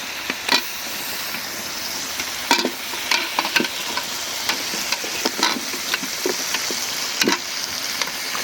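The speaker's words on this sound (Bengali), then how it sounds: "এখন দিয়ে দেবো মিষ্টি কুমড়া।" Sweet pumpkin sizzles and fries in a spice masala for a hilsa fish and pumpkin dish, a steady hiss broken by frequent sharp scrapes and clacks of stirring.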